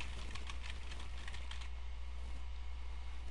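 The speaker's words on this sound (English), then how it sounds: "all you do is you type in whatever host name you want" Quick light tapping on a computer keyboard, a short burst of close keystrokes over steady low background hum, stopping partway through and leaving only the hum.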